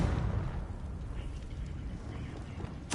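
A Confringo fire-blast spell from the Hogwarts Legacy video game, heard as a rumbling, sustained low boom that sits steady for a few seconds before a sharper crackling burst at the end.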